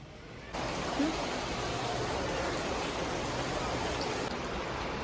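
Steady heavy rain pours down, the first rain of summer, a dense continuous hiss that starts abruptly and holds at even loudness.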